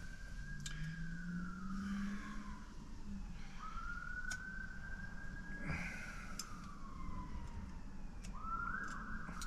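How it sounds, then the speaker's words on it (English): An ambulance siren wails in distant rising and falling sweeps through steady background noise, faint and far off throughout. "I hear an ambulance."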